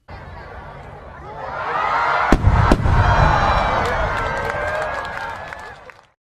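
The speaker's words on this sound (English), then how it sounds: "as the container explodes, it creates a loud, ear-splitting boom" Fireworks burst with a loud, ear-splitting boom, a sharp double crack near the middle over a broad rushing roar that swells and fades in about six seconds.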